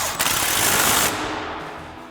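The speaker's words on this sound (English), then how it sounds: "grab our 17mm swivel socket and extension on our impact and tighten that back down" An impact wrench with a 17mm swivel socket and extension rattles loudly and continuously for about a second while tightening a nut on a truck suspension, then its buzz fades away.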